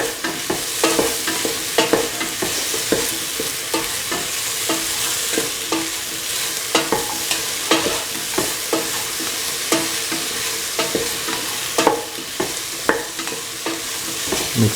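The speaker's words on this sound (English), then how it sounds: "mix in the salt thoroughly into the mixture." Salt paste being stirred into a simmering okra, carrot and coconut milk stew, a loud continuous sizzle with repeated rhythmic scraping strokes of a spoon against the pot across the whole stretch, no voices.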